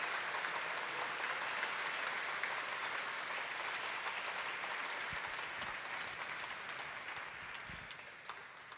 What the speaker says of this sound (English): huge, huge round of applause